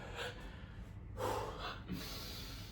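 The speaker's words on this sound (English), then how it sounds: "you should be breathing like this" Heavy, forceful breathing between sets of a shoulder-press workout, a series of loud gasping inhales and snorting exhales close to the mic, with no talk.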